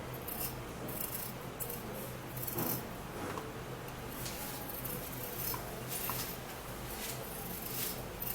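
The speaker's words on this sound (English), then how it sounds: "peel the potato." A potato is peeled by hand, giving faint, quiet scraping and rasping strokes in an irregular rhythm close by, with no talking.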